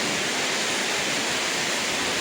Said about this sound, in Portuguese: Entra muita água aqui dentro de casa.